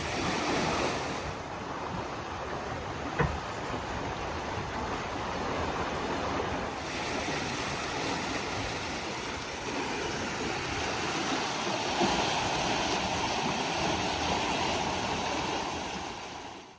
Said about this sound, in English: until the rush of water visibly decreases